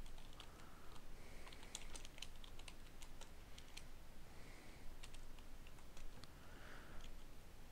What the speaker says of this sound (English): type in the title